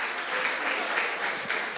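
Congregation at a Spanish-language church service giving a steady round of applause, a dense, even wash of many hands clapping at moderate volume with no voices over it.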